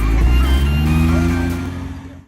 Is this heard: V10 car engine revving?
yes